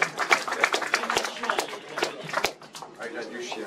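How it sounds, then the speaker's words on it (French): At a gallery opening, a small crowd claps in sparse, irregular bursts of individual hand claps, close and fairly light, mixed with a voice talking over them. "Alors, applaudissons Jean Masse, artiste économique"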